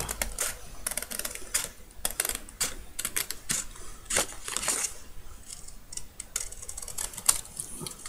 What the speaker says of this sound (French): Je vais couper la forme de mon